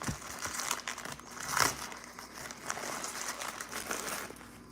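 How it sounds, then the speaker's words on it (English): Food is wrapped in a napkin or paper towel: close, crisp crinkling and rustling of paper in irregular bursts, with one louder crumple near the middle. "you wrap it up in a napkin or a paper towel or whatever"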